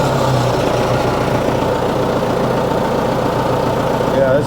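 A Case 1845 skid steer engine runs at a steady, loud, rumbling idle after a new pump install, the drone constant and close throughout with no other sounds standing out.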